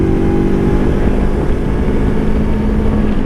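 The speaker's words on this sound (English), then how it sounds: "Look at that, engine brake works great" Steady, loud engine-braking drone from a Lifan KPT 400 motorcycle on a twisty road, holding a low, even pitch, heard up close with wind noise and no talking.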